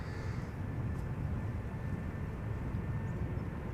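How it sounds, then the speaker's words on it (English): A Delta Airlines Airbus A330neo departing Amsterdam Schiphol makes a steady, broad jet roar that stays even throughout, with no talk over it. "This A330neo Delta Airlines Flight 57 coming this way."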